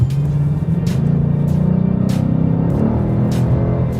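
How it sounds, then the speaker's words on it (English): 2018 Ford Mustang with an automatic transmission driving, a loud, steady engine drone heard from inside the car, its pitch shifting slightly as the gearbox changes down, with no voices. "you can hear it downshift on its own"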